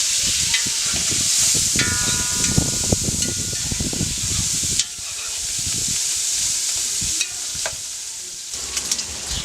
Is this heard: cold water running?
no